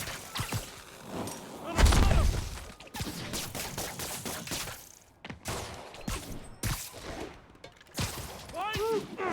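Gunfire in Marvel's Spider-Man, with scattered sharp shots and a heavy boom amid combat clatter, while characters shout over the fighting.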